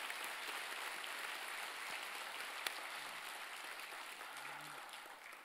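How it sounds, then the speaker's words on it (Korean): A church congregation at a Sunday service applauds steadily, a dense, even wash of many clapping hands that stays at the same level throughout without talk. "우리 하나님 앞에 감사와 영광의 박수를 올려드립니다."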